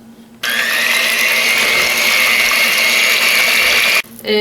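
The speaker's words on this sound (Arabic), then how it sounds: "بشر البرتقال والفانيليا وعصير البرتقال، واضربهم كويس قوي لحد ما السكر يدوب خالص" Electric mixer beating orange zest, vanilla, orange juice and sugar for a vegan orange cake, a loud steady whirring drone that starts abruptly and cuts off near the end.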